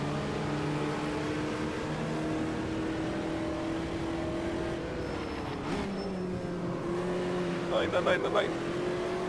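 A Volkswagen Beetle race car engine in the Automobilista 2 racing game on the Curvelo track, droning and rising and falling steadily with a brief revving burst near the end, while someone talks over it.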